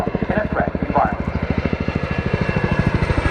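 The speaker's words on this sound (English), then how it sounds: "The agility and power of the Chinook make it a real pleasure to fly" A Chinook helicopter flies a display at the RAF Cosford Air Show, its rotors beating in a loud, rapid, even thump that stays close and continuous, while a commentator talks over it.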